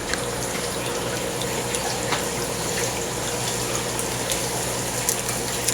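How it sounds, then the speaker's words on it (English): Water poured steadily from a measuring cup into a plastic shipping bag for tropical fish, a continuous close splashing trickle with no talking. "Just take our measuring cup, pour that in there."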